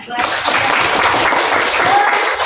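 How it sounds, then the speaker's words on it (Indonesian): Hands clap in a classroom learning session, a dense, steady burst of many claps filling the moment without pause, fairly loud and close. "Tepuk tangan."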